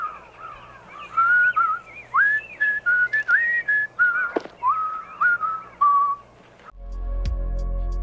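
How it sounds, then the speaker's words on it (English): A man whistles a cheerful, wandering melody in short phrases, fairly close, over a low background hum that swells near the end. "The man picks up a newspaper, whistling a happy tune."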